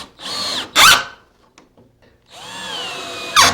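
Two short, loud bursts of a power drill driving screws into a gemsbok taxidermy mount, each whine rising in pitch, separated by a quiet gap with faint handling knocks.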